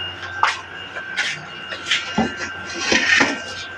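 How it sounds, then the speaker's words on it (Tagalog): Dishes from a big pile are washed by hand at home, with plates and pots clinking and clattering in short bursts over running water. The sounds are close and moderately loud, and no one speaks. "Daming hugasan guys."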